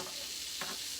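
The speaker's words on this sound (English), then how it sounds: "Hear that sizzle, sizzle." Food sizzling on a George Foreman electric grill, a steady bright frying hiss throughout with a brief louder crackle burst midway, close and alone with no talking.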